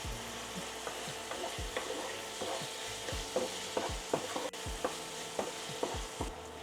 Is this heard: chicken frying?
yes